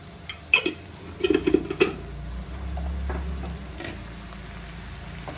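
Prawns frying in a pan on a low flame with spice powder, a soft continuous sizzle with a few clattering stirs and scrapes of a utensil early on, close by, no talking.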